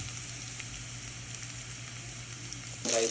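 Ingredients for a simple fried rice frying in a pan, a steady, even sizzle held close and fairly quiet throughout, with a brief louder burst of crackle near the end.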